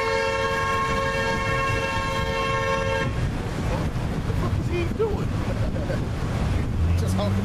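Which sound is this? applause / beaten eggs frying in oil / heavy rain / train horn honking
train horn honking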